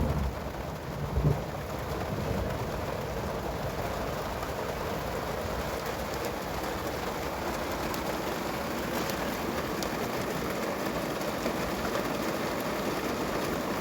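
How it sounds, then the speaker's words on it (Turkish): Heavy rain pours steadily in a dense, even hiss, with a brief knock near the start and no voices. "Maşallah ne yağmur ya işte"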